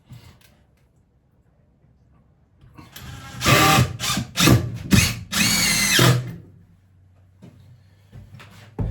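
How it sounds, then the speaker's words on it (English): A power drill drives a screw into a wooden batten during a honey house build, with bursts of loud, close whirring after a quiet start, then low background hum and no talk. "So now I can get this second screw into this batten"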